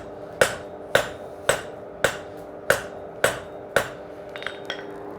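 Blacksmith hand-hammering a taper onto the end of hot steel, seven sharp, evenly spaced ringing strikes about half a second apart, close and clear, followed by a few lighter metallic taps.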